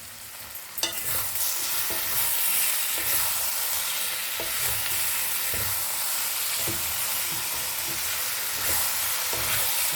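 Cabbage ghonto is stirred with ghee in a pan, giving a continuous sizzling hiss broken by regular scraping strokes of the spoon and one sharp clack near the start, close and moderately loud with no talking.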